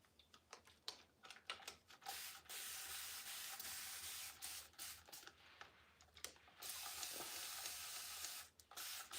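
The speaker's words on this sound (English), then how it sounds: "I do like to use a spray bottle" A handheld spray bottle misting during a home cleaning reset, heard as a series of short hissing bursts and longer sustained sprays, close and fairly loud, with no talking.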